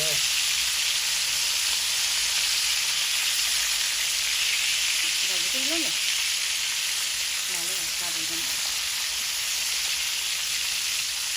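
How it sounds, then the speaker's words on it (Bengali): Hot oil sizzles steadily in a pan while frying for a chanda fish curry with eggplant and potato, a loud continuous hiss with faint voices murmuring underneath. "তেলের একটা শব্দ"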